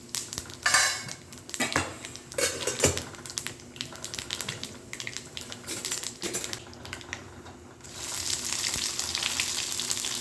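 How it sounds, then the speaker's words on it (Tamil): Mustard seeds, cumin, fenugreek, curry leaves and onion fry in sesame oil in a kadai, giving a close, steady sizzle broken by sharp crackles and pops from the seeds, with no one talking. "அடுத்து ஒரு கடாயில் நல்லெண்ணெய் ஊற்றி கடுகு, சீரகம், வெந்தயம், கருவேப்பிலை, வெங்காயம் போட்டு நல்லா வதக்கிடுங்க."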